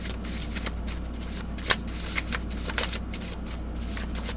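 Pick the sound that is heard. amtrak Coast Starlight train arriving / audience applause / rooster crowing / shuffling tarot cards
shuffling tarot cards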